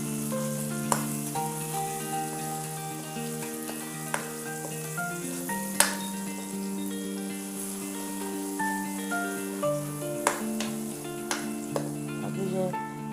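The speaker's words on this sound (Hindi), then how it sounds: "अभी मैं इसके अंदर ये लहसुन डालने लगी हूँ। ये 2 मिनट भूनेंगे इसको।" Onion and garlic fry in a pan for chicken liver, a low steady sizzle with occasional sharp clicks and taps of a stirring spoon against the pan.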